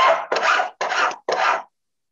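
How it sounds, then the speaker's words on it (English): A half round metal file rasps over the inside of a sand cast pendant to remove the parting seam, four close, loud, scratchy strokes in a quick even rhythm, then silence. "And I'll go around the inside with my half round section of my file."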